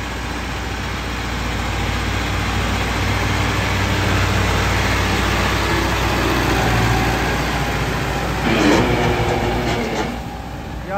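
A Buraq 100 horsepower tractor with a modified bumper drives along, its engine a loud, steady, heavy rumble with rattling and clattering, close and continuous, with a brief clunk near the end.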